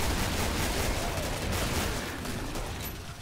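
Heavy, continuous gunfire from the Killing Floor zombie shooter roars in a dense, unbroken wall of overlapping shots, loud throughout and easing slightly toward the end.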